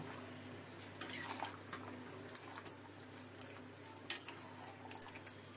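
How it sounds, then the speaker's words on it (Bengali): Fried potatoes stirred into a mutton curry in a pan, with soft scraping and occasional light clinks of a utensil against metal over a steady low hum, quiet and close. "এর মধ্যে দিয়ে দিলাম ভাজা আলু আলুটা মাংসের সাথে কষিয়ে নেবো"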